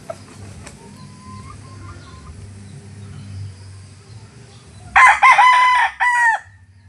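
A Maclean Hatch gamefowl rooster crows loudly and close by in one sharp burst near the end, after a quieter stretch of low background noise and faint farm sounds.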